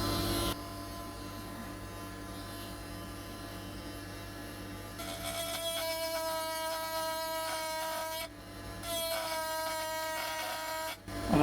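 A Parkside cordless rotary tool grinds along the edge of a slate sign, a steady high-pitched whine over a low hum that turns harsher and buzzier when the bit bites, then pauses briefly.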